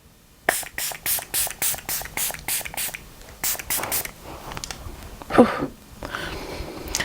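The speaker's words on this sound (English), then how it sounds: "I'm just going to cover my piercing while I spray this" A series of quick, hissing bursts of face mist sprayed over makeup in a steady rhythm, close up, followed by a few softer sprays and faint rustling.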